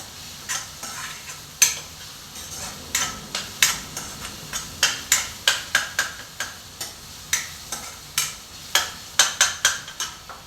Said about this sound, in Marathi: जरा थोडंसं तेलामध्ये परतून घ्यायचा कांदा, हिरवी मिरचीचा ठेचा, आलं लसणाची पेस्ट असं जरा परतून घ्यायचं.